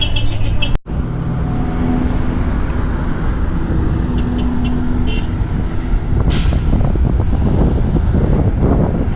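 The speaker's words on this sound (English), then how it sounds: "I'm on the highway." Steady roar of highway traffic out of El Alto, Bolivia, with heavy wind buffeting the microphone, a sharp thump early on and a vehicle passing close near the end, no talking.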